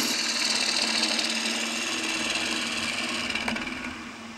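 A wood lathe gouge cutting into a spinning bowl blank, a steady close scraping hiss over the low hum of the lathe, tapering slightly at the end.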